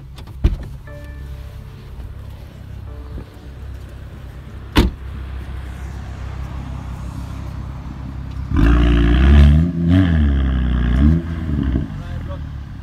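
A Mercedes C63 sits idling with a low rumble under people talking, then roars hard in a launch-control start, the engine surging loud and near for several seconds before easing off.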